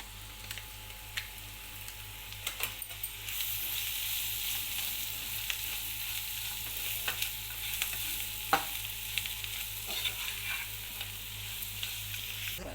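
Pulihora rice mix being stirred in a hot pan, a steady soft sizzle of frying with scattered scraping clicks of the spoon against the pan, close and fairly quiet, no talk.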